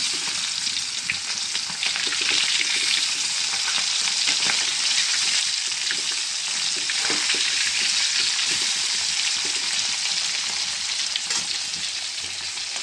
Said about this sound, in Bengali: মাছটার এক পিঠ ভাজা হয়ে গেছে